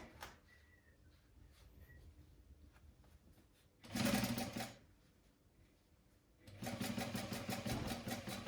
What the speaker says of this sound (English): This is a walking foot machine, so in theory both fabrics should be being pulled through the machine at exactly the same tension at the same time.